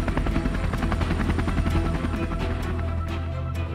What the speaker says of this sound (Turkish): Mühimmat yüklü helikopterlerse yakındaki başka bir üsse yönlendirilir.